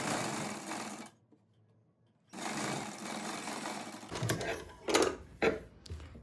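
Sewing machine stitching piping onto a blouse runs in short bursts with quiet pauses between them, close and fairly soft, with no talking.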